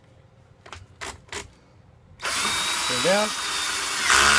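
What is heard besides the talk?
power driver clutch ratcheting after bottoming out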